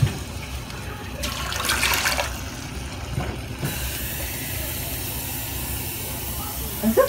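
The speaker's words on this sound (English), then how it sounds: "so you add warm water" Warm water pours with a hissing rush for about a second, added to soaking chickpeas and rice for a mutabak dish with lamb chunks, then quieter kitchen background follows.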